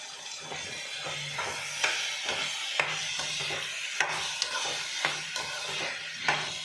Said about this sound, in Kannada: ಕಟ್ ಮಾಡಿ ಇಟ್ಕೊಂಡಿರೋಂಥ ಕ್ಯಾಪ್ಸಿಕಮ್ನ ಸೇರಿಸ್ತಾ ಇದ್ದೀನಿ ನಾನು